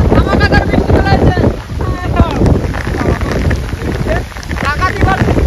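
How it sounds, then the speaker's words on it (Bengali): Heavy rain and gusting wind sweep across an open village field, a dense, loud roar with rough buffeting against the microphone throughout. "বন্ধুরা, এদিকে কাজ করতে পারছি কিন্তু ধামাকাদার বৃষ্টি চলে আসছে।"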